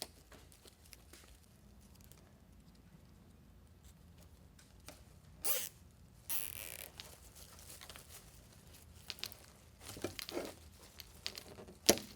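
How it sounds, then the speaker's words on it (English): Quiet crafting scene as zip ties are fastened around a wreath frame and a box, with a few short, sharp plastic ratcheting bursts spaced apart over faint background hiss. "we're going to do that with zip ties and attach it in a couple of places"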